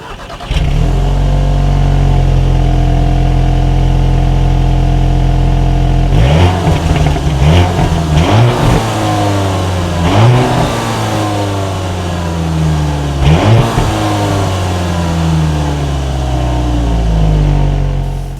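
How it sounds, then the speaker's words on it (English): A 2018 Volkswagen Jetta GLI with a single exhaust and dual tips idles steadily, then is revved repeatedly in sharp bursts that climb and fall back, loud and close, with no talk. "here is that exhaust clip"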